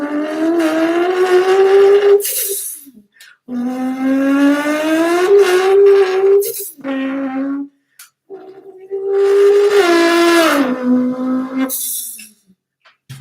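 A voice imitates a Toyota Supra engine, loud and close, with several long revving bursts that rise and fall in pitch and short pauses between them.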